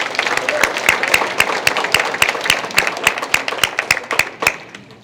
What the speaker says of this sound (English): Clap for Justin.